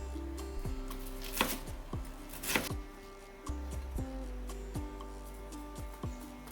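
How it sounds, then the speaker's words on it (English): A kitchen knife shreds raw cabbage on a cutting board into fine pieces for egg rolls, giving a close series of crisp, irregular taps with a couple of louder crunchy strokes. "get the cabbage really shredded to the same smaller size as the carrots"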